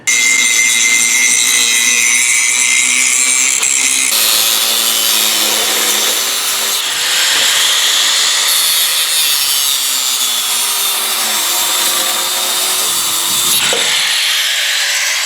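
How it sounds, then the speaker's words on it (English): An original 7/8 inch motorcycle handlebar being cut with a power tool, a loud, close, continuous grinding whine whose pitch shifts and dips as the blade bites, with no talking. "in that last clip where you saw Dad cutting up a handlebar, that was the original 7/8 inch handlebar that came with the bike"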